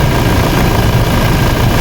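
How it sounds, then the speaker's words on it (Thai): A car engine runs steadily close by, a loud, even rumble with a constant low drone and no voices. "เครื่องยนต์เป็นยังไง นี่แหละครับ"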